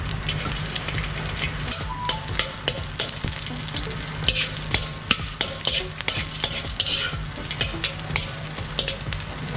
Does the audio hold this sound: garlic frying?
yes